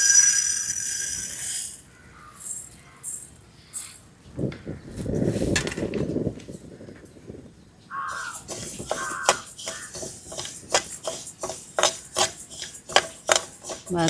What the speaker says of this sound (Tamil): இப்போ அடுப்பை பற்ற வச்சு வறுத்துருவோம் பாசி பருப்பை.